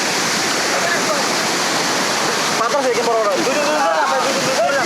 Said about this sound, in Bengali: এটা এখন বাংলাদেশের সব থেকে ভয়ঙ্কর ঝর্ণা।